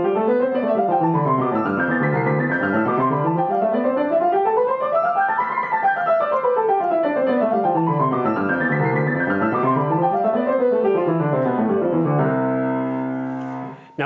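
Piano scales run in contrary motion, two lines spreading apart and coming back together several times in an even, steady rhythm, ending on a chord.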